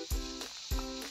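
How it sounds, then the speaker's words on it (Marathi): Crushed green chilli and garlic thecha with onion frying in a pan, a soft steady sizzle interrupted by two dull low thumps of stirring, fairly quiet and close. "त्या याच्यामध्ये घालून घेतल्या आणि व्यवस्थित आता हा फ्राय करून घ्यायचा"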